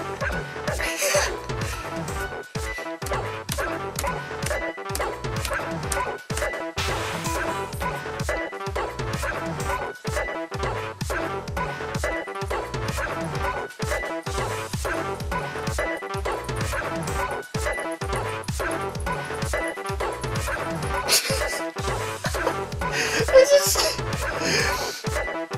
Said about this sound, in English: now we've got a dog.